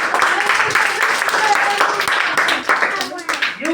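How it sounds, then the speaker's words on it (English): Children clap together in a classroom, with a burst of fairly loud, fast, irregular applause while voices talk over it. "Claps for the children."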